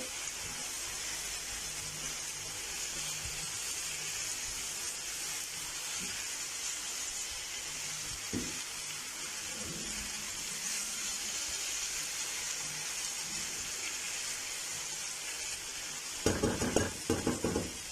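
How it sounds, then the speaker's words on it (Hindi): Finely cubed onion, tomato and potato frying in a pan for an Afghani omelette, a steady close sizzle with occasional stirring knocks and a burst of louder scraping near the end; no talking. "1 प्याज, 1 टमाटर और 1 आलू हमने यूज़ किया है, वो भी इसी तरह हमने बारीक क्यूब्स की शक्ल में काटा है। अच्छी तरह मिक्स करेंगे।"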